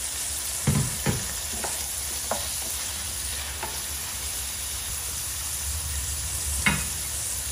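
Garlic and onion sautéing in a pan for a mung bean and chorizo dish, a continuous close sizzle broken by a few sharp utensil scrapes and taps as the mix is stirred.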